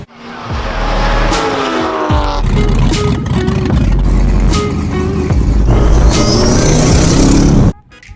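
A Ferrari 458 Italia cruises slowly along the Las Vegas Strip, its engine holding a loud steady drone with a few shifts in pitch. Faint tire and road noise sits underneath, and the sound cuts off abruptly at the end.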